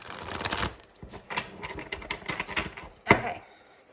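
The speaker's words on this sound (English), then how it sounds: "These cards are kind of a little bit unusual, so y'all go easy on me" A deck of slightly unusual tarot cards is shuffled by hand nearby, a burst of rapid riffling followed by softer, scattered flicks and taps, then one sharp snap as the cards settle.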